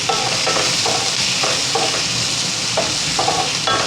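Two finely chopped onions with asafoetida sauté in a pan over low gas, a constant sizzle broken by repeated soft scraping strokes of a spoon at a steady rhythm, close and fairly loud.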